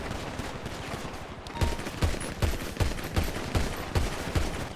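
Gunfire in a video game, a steady series of sharp shots at regular intervals, loud and close over background game noise.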